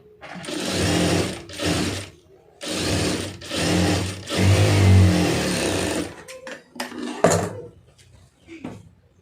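A sewing machine stitches a blouse lining in several loud, steady bursts of whirring with short pauses between them, followed by softer clicks and handling of fabric and the machine.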